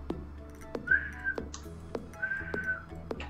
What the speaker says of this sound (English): why can't I whistle right now?